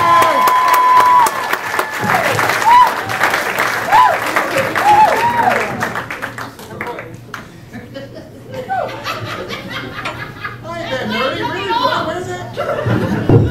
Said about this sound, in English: Keep it going. Keep clapping.